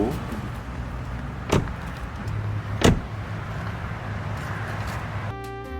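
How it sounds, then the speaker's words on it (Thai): Two solid car door thumps of a 2016 Toyota Yaris 1.2 J, about a second apart, inside a quiet cabin with a low engine hum, followed by a brief electronic chime. "เสียงปิดประตูก็ช่างไพเราะสนอหู"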